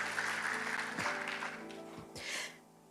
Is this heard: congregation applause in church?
yes